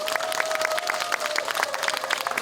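Audience giving a big round of applause at a ceremony honoring the Uiseong county head and his wife, dense steady clapping throughout with a faint sustained tone beneath.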